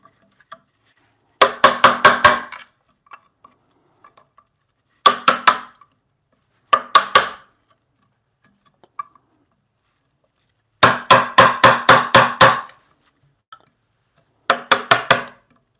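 A chisel is hammered to carve a mortise in knotty wood for a bunk bed rail, giving loud, sharp strikes in quick bursts of five to seven blows, with short pauses and a few lone taps between groups.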